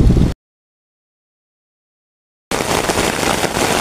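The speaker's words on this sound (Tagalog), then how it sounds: "Tag-ulan na talaga. Ayan na yung ulan" Heavy rain pours at a dam: a loud, dense, steady hiss of water that cuts out abruptly to silence, then returns just as strong and unbroken.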